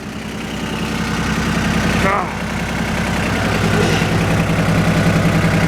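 Diesel engine of an old logging machine idling steadily and loud at close range, a constant low rumble with knocking texture, with a voice talking over it.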